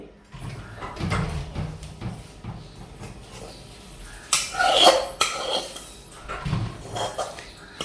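Gajak nut mixture scraped and tipped onto a plate, with a run of metallic clinks and scrapes of utensil on dish, a louder clatter midway, then softer scraping.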